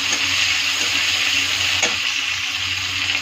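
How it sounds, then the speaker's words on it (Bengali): Dried chili, cumin and chopped onion fry in oil, a dense steady hiss with a faint tap or two of stirring, close and fairly loud. "একটু পেঁয়াজে কুচিয়ে দিয়ে দিলাম, দিয়ে একটু ভালো করে নেড়ে চেড়ে নেব"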